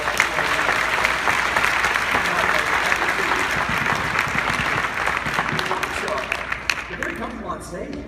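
An audience at a real estate coaching event applauds loudly and continuously, a dense wash of clapping that holds for several seconds before thinning out at the end.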